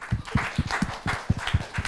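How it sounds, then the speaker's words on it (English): A conference audience gives a round of applause at the start of a final plenary session on open data, heard as a steady patter of many hands with rhythmic low thumps underneath. "Can we give everyone a round of applause?"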